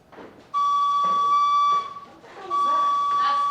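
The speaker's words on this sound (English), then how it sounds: "That's the noon whistle." A factory's noon whistle sounds from the plant, two sustained steady tones with a short break between, loud and clear over faint voices.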